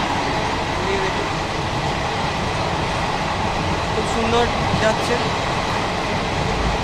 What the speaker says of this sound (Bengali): তো ট্রেনের সফর যেটা আছে শুরু করেছি।